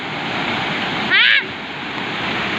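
Black, garbage-choked flood water rushes past in a steady, close, wave-like wash, with one brief louder splash surging up near the middle before the flow settles back to its even roar.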